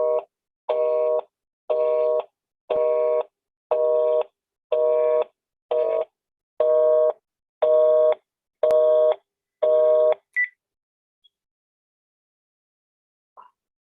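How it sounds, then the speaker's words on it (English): A telephone line plays a repeating busy-signal tone after the handset is hung up: about eleven even beeps in a steady on-off rhythm, loud and clear, then a short blip and silence. "That was me hanging up the phone."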